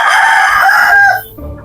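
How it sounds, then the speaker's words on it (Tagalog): Rooster crows loudly and close in one drawn-out call, ending in a short trailing note with faint low sounds after. "Dakulo na manok digdi oh."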